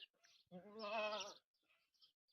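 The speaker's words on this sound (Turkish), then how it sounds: "Hakiki Halep keçisi arkadaşlar" An Aleppo goat gives a single clear bleat of about a second, wavering and close to the microphone, with quiet background between calls.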